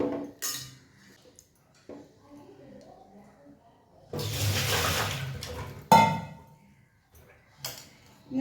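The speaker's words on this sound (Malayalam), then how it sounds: "ഞാൻ ഈ പാത്രത്തിലേക്ക് അത് പകർത്തുകയാണ്" Small firm gooseberries clatter and rattle into a pot for a couple of seconds, followed by a sharp clink, with a voice talking quietly before and after.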